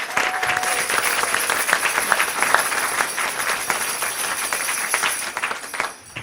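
Steady applause from an audience at the Iowa City spelling bee event, many hands clapping evenly for about six seconds before it tapers off at the end, with no speech over it.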